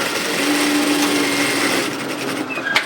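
A sewing machine stitches a straight seam on a fabric wallet pouch, a steady close mechanical whir for nearly two seconds that then slows and stops, followed by a couple of small clicks.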